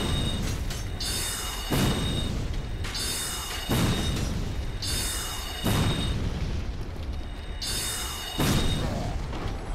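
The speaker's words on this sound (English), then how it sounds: "Let me shoot magic at you." Magic spells fired at an enemy in Dark Souls, four heavy booming bursts repeating roughly every two seconds, each ending in a bright ringing shimmer, loud and close.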